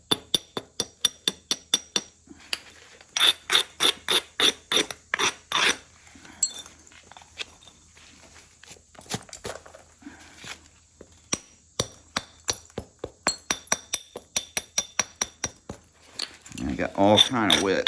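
Flint knapping with direct percussion on a large biface: a long series of sharp, close clicks and clinks as flakes are struck off, coming in quick strings with pauses between them, ending in a rougher scraping sound.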